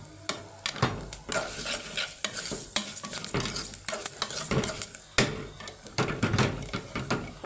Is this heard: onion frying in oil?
yes